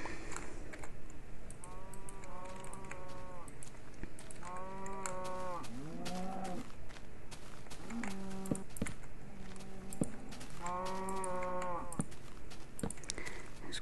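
Cows in the Minecraft video game moo four times, in drawn-out bellows that stand out over a constant background hiss and occasional keyboard clicks.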